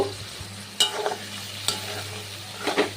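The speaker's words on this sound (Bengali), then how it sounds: "দেখো, গাজরটাও ভালো করে ভেজে নিতে হবে" Carrots and beans frying in a pan hiss with a steady sizzle, punctuated by three sharp spatula scrapes and clacks against the pan, close and clear with no talking.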